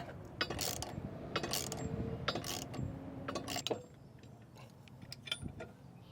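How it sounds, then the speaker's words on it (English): A 27mm socket ratchet tightening the top bolt of a Curt TruTrack 2P weight distribution hitch, several bursts of quick metallic clicking separated by short pauses, close and fairly quiet. "I'm going to go ahead and tighten this top bolt down here with a 27mm socket"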